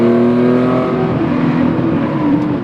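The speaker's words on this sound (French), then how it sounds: "Écoutez les montées en régime." A Porsche Carrera 2.7 RS engine revs up and down in steady sustained pulls, loud and close, with rising and falling harmonic tones and no talk over it.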